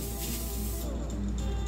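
Butter-flavored Pam cooking spray hisses steadily into a baking pan lined with parchment paper, one continuous close spray lasting under two seconds.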